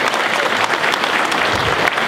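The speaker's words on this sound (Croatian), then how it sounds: "Molim jedan aplauz za njega" Dense, steady applause from an audience at a stage event, loud and close, filling the whole moment without a break.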